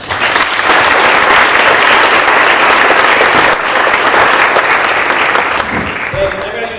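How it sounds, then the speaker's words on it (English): A crowd at a mayor's breakfast event applauds the Brookfield mayor, dense sustained clapping that fills the room loudly for several seconds before tapering off at the end. "So let's give him a round of applause."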